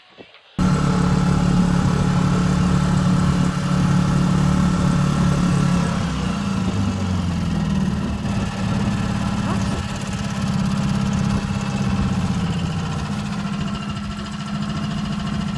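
A sailing yacht's inboard engine runs steadily at idle after starting, a loud continuous low rumble with a harmonic drone, close by, alone with no talk.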